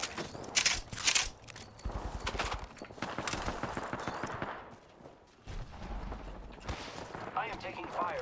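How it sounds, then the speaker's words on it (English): Enemy gunfire in an Apex Legends match, rapid bursts of shots mixed with game effects and impacts, with a voice talking throughout. "The enemies are shooting at me."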